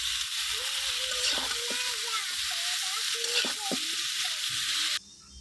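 Winter vegetables such as cauliflower, cooking with rohu fish, sizzle and fry in spiced masala while being stirred, a loud continuous hiss broken by spatula scrapes and knocks; a faint voice hums underneath before the sound cuts off abruptly near the end.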